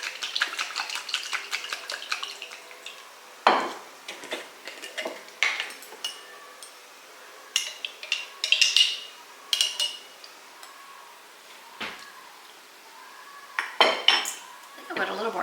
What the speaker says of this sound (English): I'm going to shake this up and we'll taste it and see if it has enough of everything in there.